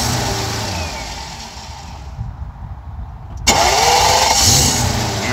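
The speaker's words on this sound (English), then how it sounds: "How's that starter sound now with the proper battery?" A BMW V12 engine, fitted with a new proper battery, cranks on its starter after a quieter stretch, then catches into a loud steady run close by, with no talk over it.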